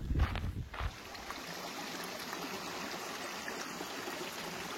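Creek water flows steadily at a trail crossing, a broad continuous rush and burble close by, with a few brief thumps at the start.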